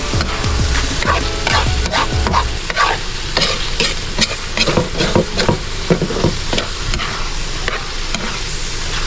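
Laba, a Bicolano dish, fries in oil in a pan, sizzling loudly and steadily up close as a spoon stirs it in repeated scrapes and knocks.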